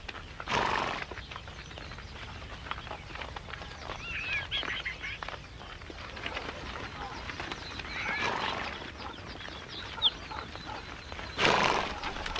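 Horses whinny loudly at the start and again near the end, with hooves clopping and milling about in between, outdoors and fairly close, in an arid Asian desert.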